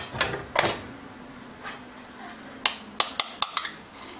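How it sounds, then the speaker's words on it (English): Cooked white rice spooned into a round bowl and pressed down for serving beside Dominican chicken, with soft scrapes and a few sharp clinks of a utensil against the bowl, close and quiet. "So I'm just going to put the rice inside of the bowl, and I'm just going to press it down."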